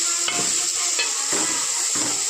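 Turmeric and ginger-garlic paste being stirred in a hot pan for egg curry, steady sizzling broken by three or four rhythmic scraping strokes of a spoon.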